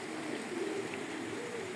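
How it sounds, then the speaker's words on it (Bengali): Steady, soft rain falls as a continuous hiss, with a faint low coo drifting through the background. "বৃষ্টি পড়তেছেই"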